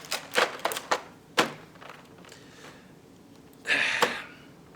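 Plastic Power Rangers Red Ranger toy keys click and clatter in a few sharp separate taps, followed by a longer rattling shuffle, close and fairly loud with no talking.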